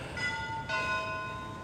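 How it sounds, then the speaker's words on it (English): Bells of Moyses Hall in Bury St Edmunds ring out in a brief, clear tonal chime with sustained ringing overtones, heard outdoors over faint background noise. "that's the Moyses Hall bells there going off there"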